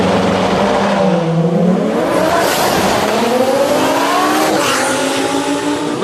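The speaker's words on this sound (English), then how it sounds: "So the Lamborghini will be the final car to go down the racetrack." A Lamborghini drag car launches at a drag-racing World Cup event, its engine roaring loudly with rising, shifting pitch as it accelerates hard down the track, sustained and close throughout with no talk.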